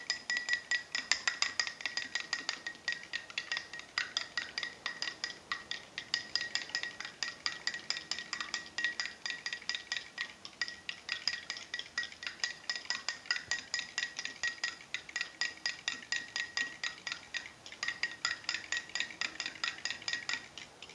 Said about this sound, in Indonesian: Kemudian kita aduk lagi.